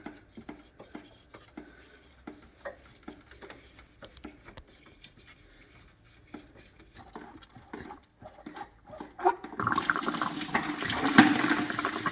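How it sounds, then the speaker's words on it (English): Coolant draining from a BMW E30 after its cooling hoses are disconnected: scattered light clinks and drips give way to a loud, sustained gush of liquid splashing for the last few seconds. "Now we're gonna try to disconnect the cooling hoses and drain a bit of coolant."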